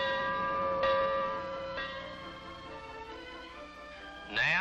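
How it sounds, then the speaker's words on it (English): A warning gong on a navigation buoy rings with long, sustained metallic tones, struck a few times so the overlapping overtones swell and slowly decay, then a fresh louder strike near the end. "A gong that sounds a warning."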